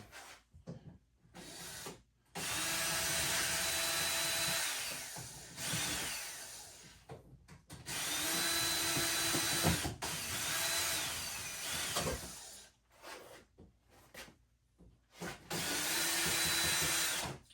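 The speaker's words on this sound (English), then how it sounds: "Let me use the screw gun." A cordless screw gun drives screws while a basement foundation is being built, with several long whirring bursts of a few seconds each. Short quiet gaps separate the bursts, and the tool sounds close and fairly loud.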